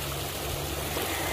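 Water pouring steadily into a fish pond as it fills, a dense, close, continuous rushing splash with no pauses and no voices.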